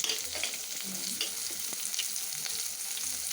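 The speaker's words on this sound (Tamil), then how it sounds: "இது சேர்த்து நல்லா வதக்கலாம்" Four garlic cloves and a cut onion sauté in a pan, a dense continuous sizzle with soft, irregular stirring scrapes close by.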